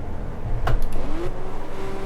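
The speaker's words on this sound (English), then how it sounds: "But I really like the way this car sounds." A BMW 1 Series M Coupe engine in the Project Cars video game revs up with a sharp burst, then settles into a steady droning hum with a rising whine, loud and close.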